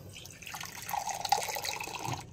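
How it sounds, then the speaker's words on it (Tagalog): Water poured into a blender jar for a cucumber, lemon, ginger and green apple juice, a faint soft trickle and splash lasting about two seconds. "Yan, nilagyan ko po siya ng tubig."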